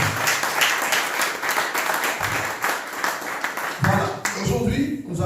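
A church congregation breaks into applause during a sermon, a dense, steady wash of clapping lasting several seconds with voices mixed in, swelling slightly toward the end.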